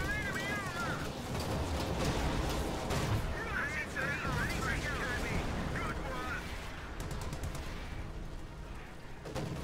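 Comet tank and other guns firing in the Company of Heroes 2 battle game, repeated booming shots and bursts amid dense battlefield noise, fairly loud throughout.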